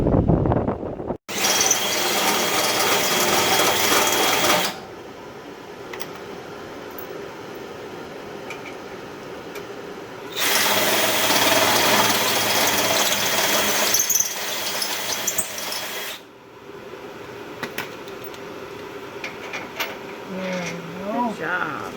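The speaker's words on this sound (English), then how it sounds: "So we need to drill out the holes in the lower control arm" Power drill enlarging bolt holes in a steel lower control arm on a 1966 Chevy, two long loud whirring bursts separated by quieter stretches of background noise and faint handling sounds.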